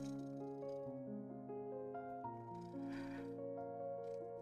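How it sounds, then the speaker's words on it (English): Domestic cats crying indoors, a continuous strained, tonal wailing with shifting pitch that runs steadily for several seconds at moderate volume, with no talking over it. "my cat's are crying"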